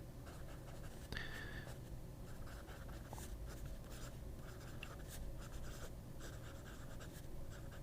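A Pelikan fountain pen nib writes on paper, giving a steady, soft, continuous scratchy rasp with small stroke-to-stroke variations, heard up close with no voices.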